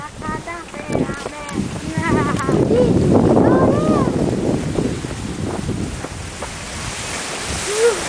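Sea waves wash against the shore under gusty wind rumble, with voices talking over the steady surf.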